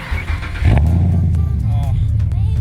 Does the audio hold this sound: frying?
no